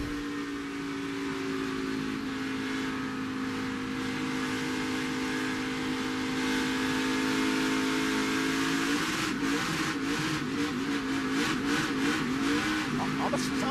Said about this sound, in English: Let's listen to the onboard and the engine with Brandon Jones' car.